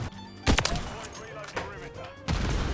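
Shots from an XRK Stalker sniper rifle in Call of Duty: Modern Warfare III. A loud, sharp shot cracks out early, fainter shots follow, and another heavy blast comes near the end, with game noise between them.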